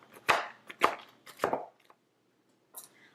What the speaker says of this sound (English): I'm just going to coarsely chop this.